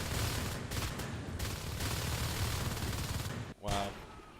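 Natural Selection 2 match gunfire, dense rapid shooting filling the scene continuously, then a brief pause and a short burst near the end with a faint voice.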